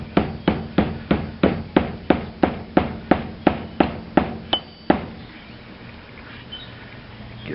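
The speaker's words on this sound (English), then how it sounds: "We're going to tap that down in there as far as she'll go." A hammer taps a wooden wedge into a hatchet handle during a repair, about fourteen sharp, evenly spaced strikes ringing close and loud, then stopping abruptly, leaving quiet room noise.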